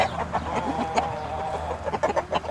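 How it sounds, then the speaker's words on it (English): Purebred cherry egger hens cluck and chatter inside a hen house, a close, busy run of short repeated clucks and calls over a low background hum. "these are purebred chickens here. They're what they call cherry eggers."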